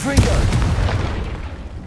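Confringo blasting spell exploding in Hogwarts Legacy, a loud booming blast with a rolling rumble that tails off, while a voice speaks briefly at the start.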